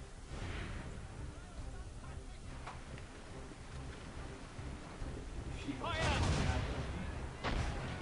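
Ship cannons in Assassin's Creed Rogue fire in a few heavy booms over a rumbling sea backdrop, with the loudest blast near the end, under a voice.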